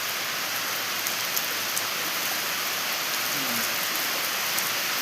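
Heavy rain pours steadily during the rainy season, a dense, continuous hiss of drops on surfaces with no voices, loud and even throughout.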